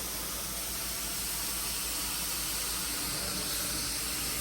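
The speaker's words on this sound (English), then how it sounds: "Steaming some carpets in Waterloo, Illinois." A carpet steam cleaning machine at work in a home in Waterloo, Illinois, giving a continuous, even hiss and whoosh that stays steady throughout, with no voices.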